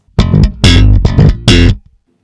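Slap bass guitar riff in four loud, punchy bursts of thumb-slapped and popped notes with percussive attacks, played alone, then ringing off into silence.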